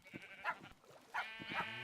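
Minecraft sheep bleat in a few short, wavering cries, close and fairly clear against a quiet background, with no talk over them.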